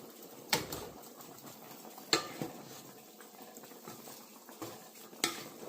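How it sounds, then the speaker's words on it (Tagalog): A spoon stirs salt-cooked adobo in a pot, giving scattered scraping clinks and knocks against the metal at irregular intervals over a soft simmering background, close and fairly quiet, with no talking. "Okay, tara haluin po natin."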